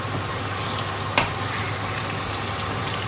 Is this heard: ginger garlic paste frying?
yes